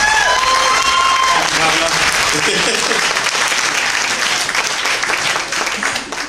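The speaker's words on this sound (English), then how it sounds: "Round of applause, Pamela." A convention audience at a comic-con cosplay competition applauds, dense sustained clapping with some crowd noise and voices mixed in, loud and steady before fading slightly at the end.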